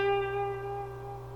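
Sustained blues electric guitar note held with a slow, singing vibrato, ringing steadily and alone at moderate volume for just over a second.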